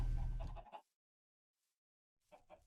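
Chickens clucking in the video game Minecraft, a short burst of clucks, then near silence, then another cluster of clucks, close and fairly clear with no talking.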